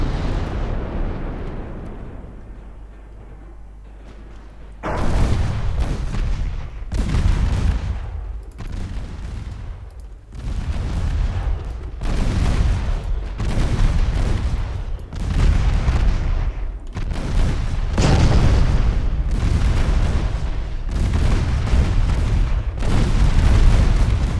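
Naval main guns of warships fire again and again in Ultimate Admiral: Dreadnoughts. After a quieter rumbling lead-in, loud booming salvos roll one after another, layered with continuous explosions.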